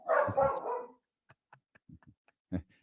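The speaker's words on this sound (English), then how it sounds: "I've got dogs going nuts." Dogs barking indoors at home, a loud burst of barks up close followed by a few scattered, quieter yips and knocks.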